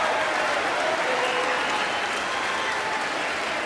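Sustained, dense applause from a large audience in the chamber of Congress during the State of the Union address, loud and steady throughout with no pauses.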